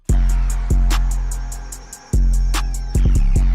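Deep booming 808 bass notes programmed in FL Studio hit in a sparse pattern, each long sustained tone slowly fading, over a steady ticking hi-hat with quick double hits near the end.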